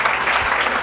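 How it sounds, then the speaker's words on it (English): Audience applause at a community gathering, steady dense clapping filling the whole moment with no pauses. "Let's give her a round of applause."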